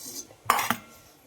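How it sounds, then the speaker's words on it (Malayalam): Metal spoon clinks and scrapes against a pan while onions are stirred and sautéed for a masala, two sharp clinks close together over a soft, low background. "നമ്മുടെ മസാലയ്ക്ക് വേണ്ടിയിട്ടുള്ള ഉള്ളി വഴറ്റിക്കൊണ്ടിരിക്കുകയാണ് കേട്ടോ ഞാനിവിടെ."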